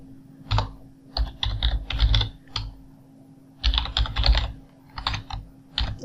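Typing a file name on a computer keyboard during ANSYS structural modelling work: bursts of quick, close key clicks in two clusters separated by short pauses, with a steady low hum underneath and no talk.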